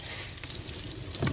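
Beef sizzling steadily as it fries in a pan for a home-cooked beef steak, a continuous close crackle with a louder burst near the end.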